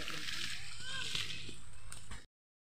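River water sloshes and gurgles nearby in a steady wash, with a voice speaking over it before the sound cuts off abruptly.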